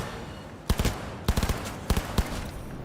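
Three bursts of automatic gunfire in the video game Cyberpunk 2077, each a quick cluster of sharp, loud shots with short pauses between them, with no talking.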